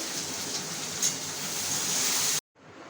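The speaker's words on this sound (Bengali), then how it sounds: "এই যে তখন পাতুরি করেছিলাম পাতায়, এই এখন ভেজে নিচ্ছি" Fish paturi wrapped in gourd or taro leaves fries over low heat, giving a dense, even, close-up sizzle that stops abruptly near the end before resuming more quietly.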